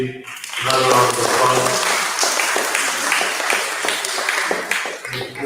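An audience at a GTUC Independence celebration applauds a speaker, Mr. Green, with a loud, sustained round of clapping in a hall, individual claps audible within the steady wash as a voice briefly speaks at the start.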